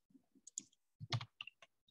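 Several quiet, crisp computer mouse clicks arrive in an irregular string, with a louder cluster in the middle and short pauses between them, close up with no talk.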